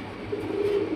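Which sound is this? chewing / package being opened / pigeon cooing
pigeon cooing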